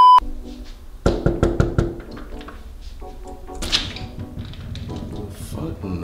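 Several quick knocks on a door in rapid succession, close and fairly loud, followed by quieter room noise and shuffling.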